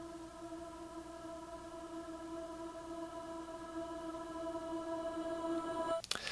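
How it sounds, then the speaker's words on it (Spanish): A bounced, reversed vocal chant with delay swells through sustained layered tones that build gradually before cutting off abruptly with a brief noisy burst at the end. "Una vez que haces el bounce y lo pones en reversa"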